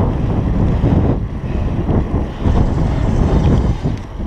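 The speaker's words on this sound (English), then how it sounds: "Today was like stupid windy." Strong gusty wind buffeting a helmet-mounted camera on an evening mountain bike ride, a loud continuous low roar that swells and eases without any voices.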